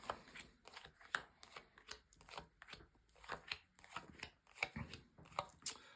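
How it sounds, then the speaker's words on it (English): Tarot cards are shuffled in a string of quick, crisp riffling bursts, close by and fairly quiet, with short pauses between them. "So I could shuffle here and I'm going to lay down your 10 cards."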